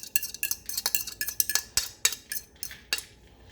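A utensil scrapes and clinks against a bowl as eggs are mixed into a tuna patty mixture, an irregular series of sharp metallic taps and stirs, close and fairly loud with no talking.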